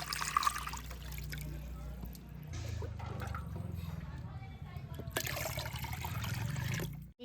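Water poured into a wok for rasgulla syrup made with nolen gur, a continuous trickling pour, close and moderately loud, with short splashy bursts.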